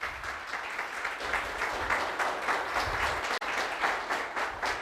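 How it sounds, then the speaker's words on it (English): Steady audience applause welcomes a panelist at a veterans' heritage event at a military women's memorial, a continuous wash of many hands, moderately loud with a brief dropout near the end. "Please give her a round of applause."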